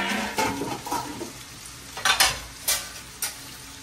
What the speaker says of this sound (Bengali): এই যে এখন পেঁয়াজ ভাজতেছি